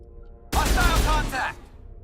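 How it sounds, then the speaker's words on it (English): A burst pistol firing in Mass Effect, one loud, close, roughly one-second blast of rapid shots that stops abruptly, with quiet on either side. "Oh, this is a burst pistol"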